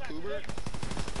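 Automatic machine pistol fire in a WW2 first-person shooter game, a rapid rattling burst of shots that takes over after a short tonal sound, loud and steady through the rest of the moment.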